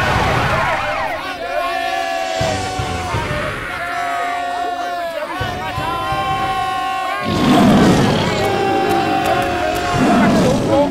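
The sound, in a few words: fire brigade siren approaching in cartoon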